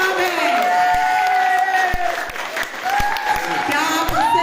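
A crowd at a quiz show claps and cheers, with whoops rising over the steady applause, loud and sustained throughout.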